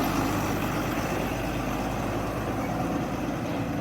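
A truck engine idles at the Kashedi Ghat tunnel construction site as a steady, broad rumble that stays constant throughout, with no speech over it.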